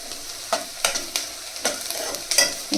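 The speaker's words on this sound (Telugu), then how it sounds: "ఆనియన్స్ వేగుతున్నాయి." Onions frying in a pan while being stirred for a prawn and okra curry, a steady close sizzle broken by several sharp scraping stirs at irregular intervals, with no talking.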